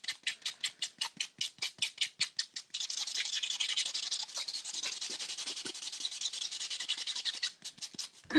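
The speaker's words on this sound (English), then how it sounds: "go in with this buffing block again" A buffing block rubs over nails in rapid rhythmic strokes. Short scratchy passes give way to a sustained, steady rasp before the strokes resume, all close and soft with no talking.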